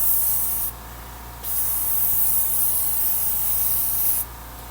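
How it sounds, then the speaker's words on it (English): Aerosol tire dressing sprayed from a can onto a car tire: two long, loud hissing bursts separated by a short pause, close to the microphone with no talking. "they'll spray it on the tire itself"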